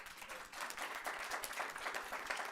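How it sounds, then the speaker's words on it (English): An audience at a board meeting gives a round of applause, a soft, steady patter of many hands heard from a distance. "Let's give him a round of applause"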